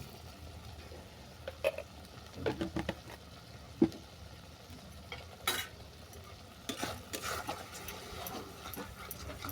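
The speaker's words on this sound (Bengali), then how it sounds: "মশলাটাকে ভালো করে কষিয়ে নেবো যতক্ষণ না মশলা থেকে তেল ছাড়ছে" Spice paste with grated tomato and a little sugar frying in a pan for a sesame prawn dish: a faint, low sizzle under scattered soft stirring scrapes and occasional spoon knocks, quiet and close throughout.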